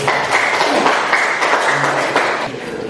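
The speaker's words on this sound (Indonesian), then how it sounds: "Mari kita tepuk tangan dulu." Students clapping in a classroom, a moderate ragged patter of hands that holds steady for about two and a half seconds before thinning out, without speech.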